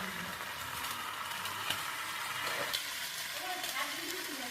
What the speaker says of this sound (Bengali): এরপর একে একে লঙ্কা বাটা, আদা বাটা, জিরে বাটা দিয়ে আমি কিছুক্ষণ নেড়ে নেব